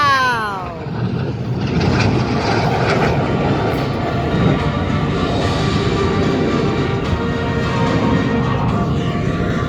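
RAF Red Arrows jets sweep past at an air show in a loud, sustained engine roar that swells and holds, with a faint falling tone at the start.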